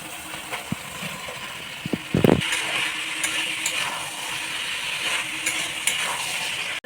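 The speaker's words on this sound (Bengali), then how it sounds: "এখন এর মধ্যে আমি এঁচড় আর আলু দিয়ে দেবো" Jackfruit and potato pieces go into an oily spice paste and are stirred, a continuous close sizzle with a few sharp knocks and a louder burst as the pieces hit the pan, then steady frying with occasional scrapes.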